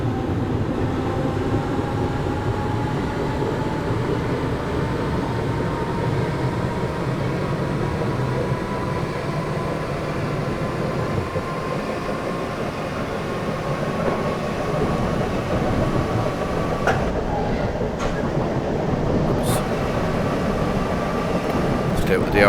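A Class 313 electric train in the OpenBVE simulator on the North London Line accelerates, its motor whine rising steadily in pitch over a constant rolling drone, with a few clicks near the end and someone talking over it.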